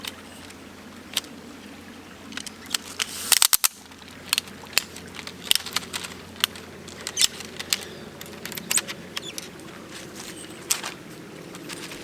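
Peak Design Travel Tripod being set up by hand, with a string of sharp clicks and snaps from its cam levers and legs spread across the span, close and fairly quiet over a low steady background hum.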